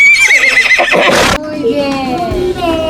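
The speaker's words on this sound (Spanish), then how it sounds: "¿Y cómo hace el caballo," A horse gives a loud, drawn-out neigh that shakes and rises, then trails off into a lower whinny, with a short spoken word from a child's animal-sounds lesson over the end.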